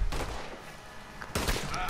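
Two heavy, close gunshots ring out in Red Dead Redemption 2, each a hard blast with a short echoing tail, about a second and a quarter apart, with game ambience in between.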